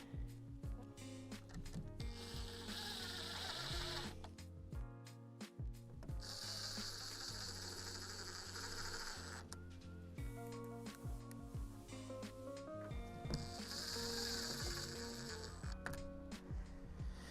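A ratchet clicks in quick repeated bursts while driving screws into the strut brackets of a garden building, with short pauses between runs, close and fairly quiet.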